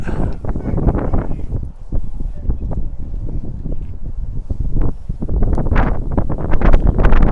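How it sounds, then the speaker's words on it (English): A strong gust of wind buffets the microphone at an outdoor college baseball game between pitches, a loud, steady rushing roar lasting throughout that swells again toward the end. "Big gust of wind in between pitches."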